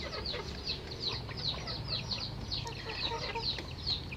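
Native village chickens cluck in a repeated run of short, bright calls at a steady pace against a low background hum, close and fairly faint, with no talking.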